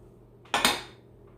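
A brand-new titanium cook pot from a backpacking stove kit is handled, giving two quick close metallic clanks about a tenth of a second apart, with a short ringing tail and no one talking.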